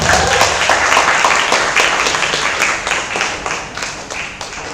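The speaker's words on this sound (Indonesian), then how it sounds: "Kasih tepuk tangannya dong." Loud, close applause from the crowd at an Islamic fair talkshow and closing event greets an arriving ustadz, sustained clapping with sharp individual claps standing out as it slowly tapers.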